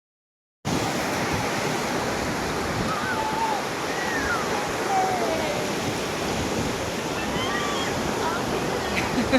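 Sea waves at Udupi beach, heard from a floating bridge over the surf: a steady, loud wash of breaking water mixed with wind buffeting, beginning abruptly after a brief silence and continuing without pause.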